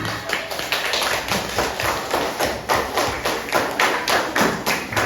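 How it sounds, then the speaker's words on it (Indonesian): Third-grade classroom children clapping their hands together in a quick, even rhythm, a loud run of repeated claps close by with little talk. "Tepuk tangan."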